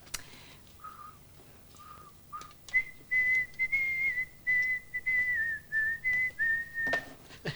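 A person whistles a melodic tune, starting with a few short, separate low notes and then moving into a longer sustained phrase with wavering pitch, clear and close with no talking.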